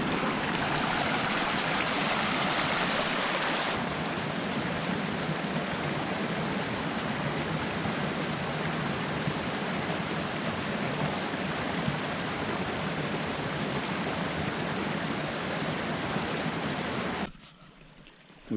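A small spring-fed stream on a winter forest trail flows in a steady, broad rushing wash, close and constant, brightening briefly early on before cutting off near the end.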